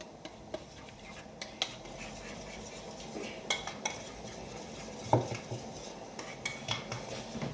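A spoon clinks and scrapes against a bowl while burger sauce of mayonnaise and ketchup is stirred, with irregular light taps spread through a quiet kitchen background.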